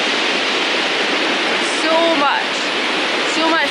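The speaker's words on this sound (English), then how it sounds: "look at how much water is flowing from those falls" Triplet Falls pouring heavily after heavy rain, a loud continuous broadband rush of falling water with faint bird chirps above it.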